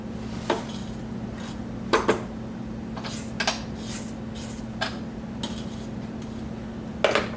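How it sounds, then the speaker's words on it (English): Metal utensil clinking and scraping against a mixing bowl while pumpkin cookie dough with vanilla is stirred, a handful of sharp clacks at irregular intervals over a steady low hum, close and moderately loud, with no talking. "And we'll go ahead and mix this."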